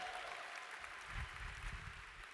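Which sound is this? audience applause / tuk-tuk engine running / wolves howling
audience applause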